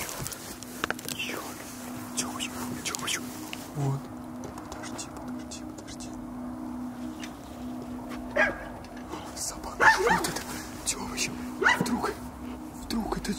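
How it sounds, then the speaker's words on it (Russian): A dog barks repeatedly at a distance, irregular yaps over outdoor background noise, with faint whispering voices nearby. "Собака очень сильно разлаялась."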